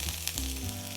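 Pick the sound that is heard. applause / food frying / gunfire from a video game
food frying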